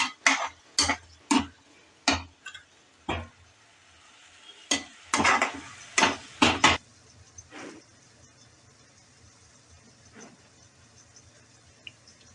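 Vegetables for poha biryani are sautéed in a pan, with a series of sharp scraping and tapping strokes from the spoon over the first seven seconds, then a quiet low sizzle with only an occasional faint tap.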